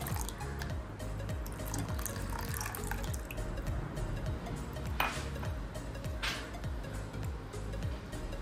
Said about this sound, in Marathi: तर बाकीचं पण हे टाकूया पाणी